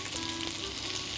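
Soup ingredients frying briefly in a pan, a steady, even sizzle filling the whole moment at close range, with no voices.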